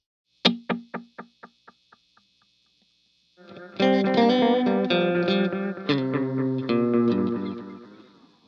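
An electric guitar runs through a delay pedal with modulation switched off: a single plucked note repeats in clean, steadily fading echoes, then a strummed passage of ringing chords follows, clear and close.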